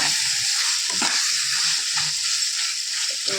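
Mushroom masala sautés on a low flame, a close, even sizzle broken by soft stirring taps at a relaxed pace.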